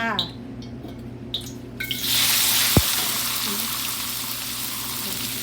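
Raw pork dropped into a hot pan for stir-fried ginger pork bursts into a steady hiss of sizzling that holds loud after a few quieter clinks and movements, with someone talking briefly beforehand.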